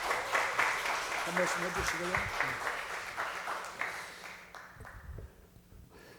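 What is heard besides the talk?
church congregation applauding to welcome a pastor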